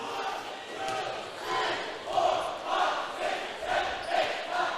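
Waukee fans at a high school basketball game in Overland Park, Kansas, chanting in rhythmic swells that rise and fall roughly every half second to second, with crowd noise beneath and a commentator talking over it.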